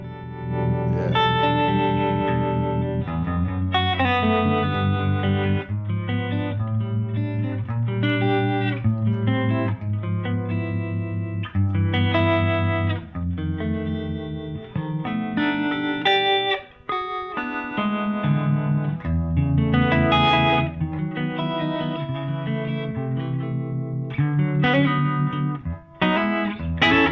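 An electric guitar plays a melodic line with a harmonic vibrato effect, wavering and pulsing, with some reverb, loud and continuous with no talking.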